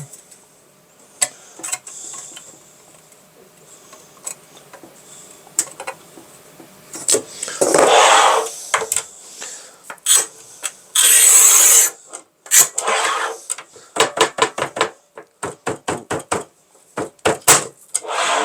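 A manual tile cutter (Kaufmann TopLine 630 or Sigma 62 NEX) scores ceramic tile: scattered sharp ticks and clacks, two loud gritty scraping strokes, then a fast run of clicks, all close, with no talking.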